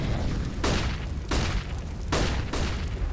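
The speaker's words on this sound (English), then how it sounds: "There's so many flashbangs being thrown out right now. You can hear them all starting to pop" Flashbangs pop in CS:GO during a match at a Denver LAN event. Four booming, broadband bursts land roughly every half second to second over a rumbling background.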